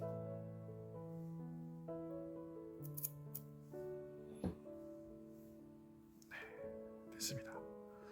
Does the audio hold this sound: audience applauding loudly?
no